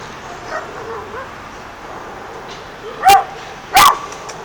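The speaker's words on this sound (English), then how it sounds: "Oh my God, that's a big dog." A big dog outdoors in a city barks twice, two loud sharp barks close together near the end after a stretch of quiet background.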